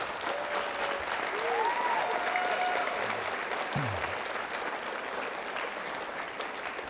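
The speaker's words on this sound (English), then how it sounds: "How about a big round of applause for all our chefs tonight?" Audience at a school culinary competition for future chefs gives a round of applause, a fairly faint, steady wash of clapping heard from a distance, with a few brief tonal sounds and a short low voice-like sweep partway through.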